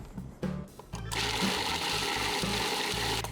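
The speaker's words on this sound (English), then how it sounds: "into the food processor goes walnuts and Parmesan" Food processor grinding walnuts and Parmesan, a loud steady motor whir with rattling chopping that starts after a brief pause and runs continuously, close up, no talk.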